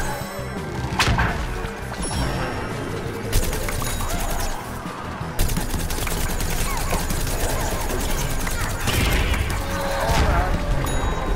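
Rapid gunfire and impact blasts from the shooter game PvZ Garden Warfare sound loud and continuous, with bursts and booms layered over game effects across the whole stretch.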